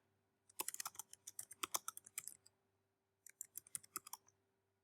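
Quick bursts of clicking keys on a computer keyboard while a query is typed into a web search, two runs of close, crisp keystrokes separated by a short pause, with no talk.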